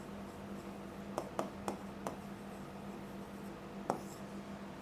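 A stylus pen tapping and writing on an interactive whiteboard panel for schools, a handful of light, sharp taps, quiet and close, against a faint steady hum.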